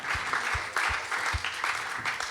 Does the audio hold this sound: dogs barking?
no